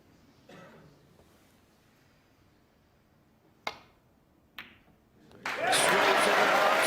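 Snooker crowd at an Ronnie O'Sullivan versus Shaun Murphy match breaks into loud, sustained applause near the end after a quiet stretch with a couple of sharp knocks, filling the hall with dense clapping.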